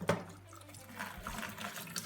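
Faint, steady flow of water from a dismantled kitchen faucet, a soft splashing trickle into a sink with a brief low thump near the start.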